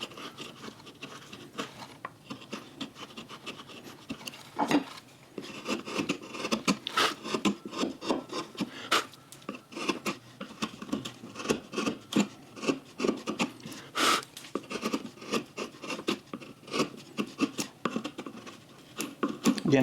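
A hand tool makes repeated passes over a carved wooden lakeshore cabin landscape, giving close, dry scraping and rasping strokes in irregular bursts that grow busier and louder partway through; a voice is faintly present at times.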